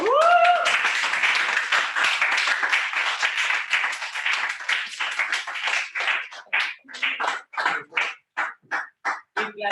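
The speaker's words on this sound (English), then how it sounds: "Keep clapping, guys." Audience at a hybrid Toastmasters club meeting clapping for an award, dense applause that thins into scattered separate claps toward the end.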